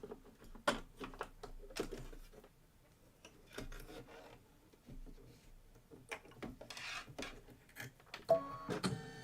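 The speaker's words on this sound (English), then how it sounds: "We're going to do the outline stitch with the little antenna." An embroidery machine stitching an applique outline, a faint, steady run of quick mechanical needle clicks and rubbing taps that continues for several seconds without talk.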